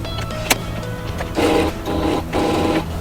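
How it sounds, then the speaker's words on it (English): A sewing machine stitches over elastic on an apron, giving three bursts of steady mechanical whirring, each about half a second to a second long, separated by short quiet gaps, close and clear with no talking. "I always double sew over that elastic because, well, it's elastic."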